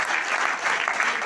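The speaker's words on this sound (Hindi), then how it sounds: "इन सब के लिए एक बार जबरदस्त ताली बजेगी" A brief burst of enthusiastic audience clapping fills a hall at a direct-selling leadership event, dense and steady throughout.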